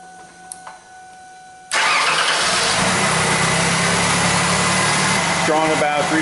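Near silence broken by faint clicks, then a car engine cranks and catches after a fuel pump replacement, settling into a steady, loud idle that continues to the end.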